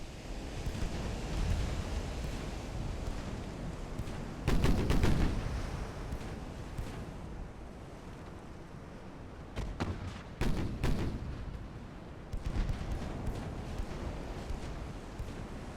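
Warship naval gunfire in Ultimate Admiral: Dreadnoughts, with booming salvos in several bursts over a steady low rumble of sea and wind, loud and fairly close.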